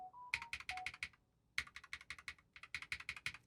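A mechanical keyboard fitted with Glorious Holy Panda switches is typed on up close, giving crisp, rapid bursts of keystrokes separated by a short pause, with a few faint beeps at the start.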